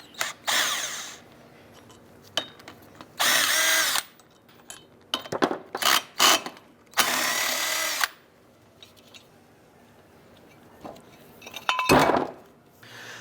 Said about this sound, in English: Using a 17mm thin wall socket in our impact, we're going to go ahead and remove the brake rotor bolts.